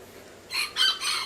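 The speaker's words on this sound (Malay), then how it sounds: "Dia kokok." A serama chicken, a small bantam, gives a short, high, close crow broken into three quick syllables, loud and clear against a quiet background.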